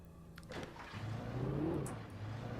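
A car engine in the video game Alan Wake hums low and steady, its pitch rising slightly as it revs, with a couple of brief mechanical clicks near the start.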